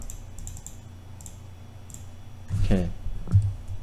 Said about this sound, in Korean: 타이핑을 합니다